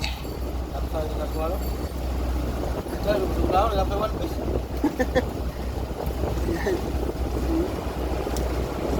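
A small motorboat engine hums steadily close by over wind and water, with voices talking now and then.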